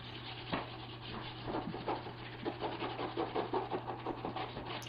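Rough, rhythmic scraping strokes of sanding the edges of an existing wood floor, moderately close, over a steady low motor hum.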